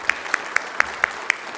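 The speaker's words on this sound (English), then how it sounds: "everyone clap, clap," A few people clap together in slow, evenly spaced single claps, six sharp hits at a steady rhythm, fairly close and moderately loud, at a camp gathering.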